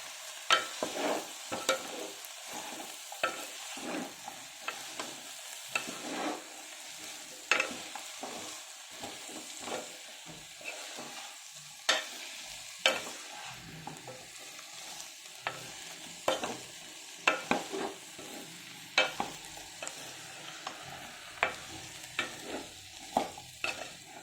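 Cauliflower cashew curry cooks on a stove over medium flame, with a soft sizzle under repeated scraping and stirring strokes of a spoon against the pan, spaced irregularly throughout.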